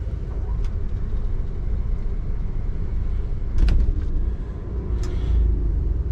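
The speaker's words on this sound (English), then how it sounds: "that generator may fire back up" A low-fuel generator on a 1996 Jayco Designer 2940FL Class C motorhome gives a steady, close engine rumble, broken by a couple of sharp clunks as it sputters.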